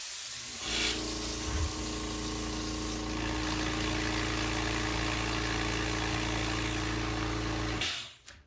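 Graco 395 AAA air-assisted airless sprayer pumped to about 30 psi while spraying cabinets, a loud steady motor drone and hiss that runs for several seconds and then cuts off.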